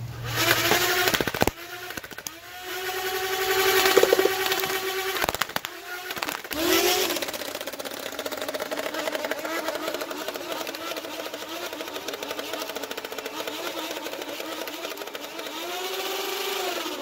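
Nerf dual arm-mount "flamethrower" proton pack blasters firing in repeated bursts, a whirring motorized hum with clattering pulses that rises and falls, loud and close, with no voices.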